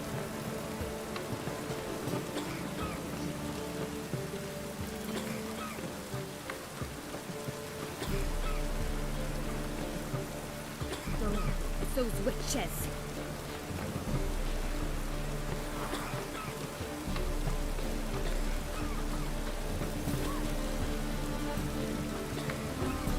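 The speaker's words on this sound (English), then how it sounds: "Rain again." Steady rain patters over The Witcher 3 game's background music, with a voice murmuring briefly partway through.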